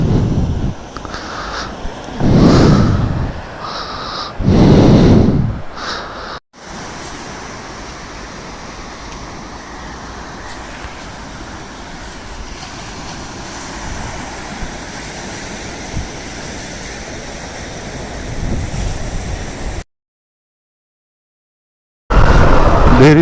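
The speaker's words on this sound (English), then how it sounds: "So this is the Mattu beach." Ocean surf at Mattu Beach on the Karnataka coast makes a broad, steady wash of waves. Louder surges break at the start, then a long even roar follows, partly buffeted by wind on the microphone, with no speech.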